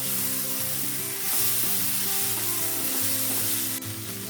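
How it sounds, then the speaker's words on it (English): Fried mushrooms sizzling and being stirred in a pan over a lowered flame for a black pepper mushroom fry, a dense continuous frying hiss with low hum underneath, close and steady, no voices. "I'll add this fried mushroom and stir it nicely"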